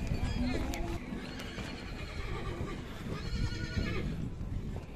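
A horse neighs at an outdoor horse market in Chuy, a clear whinny near the start amid hoof clops and bustling crowd noise, with people talking throughout.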